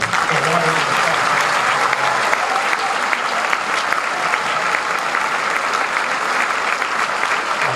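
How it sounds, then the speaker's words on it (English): Steady, loud applause from a concert audience at a high school band spring concert, a continuous dense wash of many hands clapping that holds evenly throughout. "This band deserves a round of applause"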